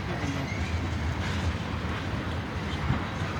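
Continuous heavy rumble of a long BNSF tanker train passing close by in Piscataway, tank cars clattering over rail joints in a steady rhythm, with a faint wheel squeal and no talk.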